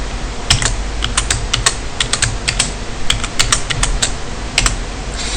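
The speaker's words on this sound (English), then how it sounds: "type your password." A password is typed on a computer keyboard, a run of sharp, close key clicks in uneven bursts over a faint steady hum.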